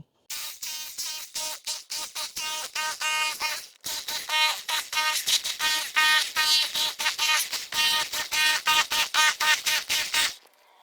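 A MASARU SCDR-170 rotary hammer chisels concrete with a pointed bit, giving rapid, loud, buzzing hammer pulses in a fast rhythm. It briefly stops once, then runs on and cuts off at the end.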